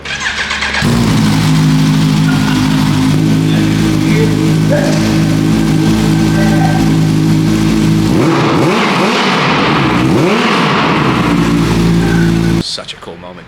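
A Ducati V4 motorcycle engine cranks and fires up, then idles loud and close with a steady throb and is blipped into a couple of sharp revs before cutting off, with a few people talking quietly nearby.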